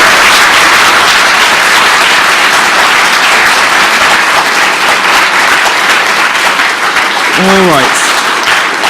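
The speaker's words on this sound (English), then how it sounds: "So give one more round of applause for Christina." Loud, sustained applause fills a university hall for Christina, a dense roar of many hands with a brief spoken interjection near the end.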